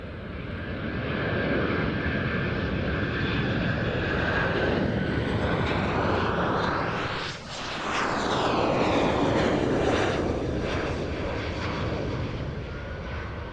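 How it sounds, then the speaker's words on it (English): A Boeing Poseidon MRA1 maritime patrol jet roars past loudly in an air show flying display, a steady heavy engine rumble that sweeps through a pronounced flyby pitch shift near the middle before carrying on. "a Poseidon MRA-1."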